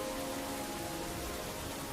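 Steady, dense rain pours without a break, a close, even wash of falling water that fills the whole space at a constant loudness with no voices.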